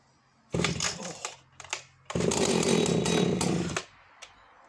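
Vintage Husqvarna 285CD professional Swedish chainsaw firing up: a loud first burst that sputters and dies, two short blips, then a longer full-throttle roar that cuts off abruptly.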